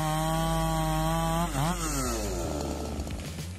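A loud chainsaw engine drones steadily, its pitch dipping and rising as the blade bites into oak.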